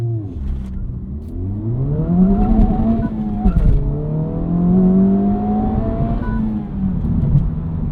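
A 2025 Honda Civic Type R launches from a standstill using launch control, its engine held near 3,500 rpm and then revving hard through the gears, loud and close, with brief juddering from wheel hop.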